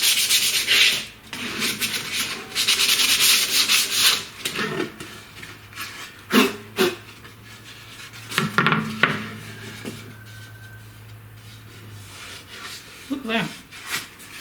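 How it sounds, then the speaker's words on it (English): Light hand sanding of a wooden edge in a CNC router workshop, with bursts of close, raspy rubbing strokes that come and go, and a brief spoken remark in between. "Just a light sanding just to clean the edge up."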